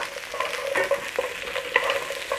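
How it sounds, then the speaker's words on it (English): Onion and pepper frying in a pan sizzle continuously up close, with repeated scraping stir strokes across the cooking surface. "Onion. Pepper."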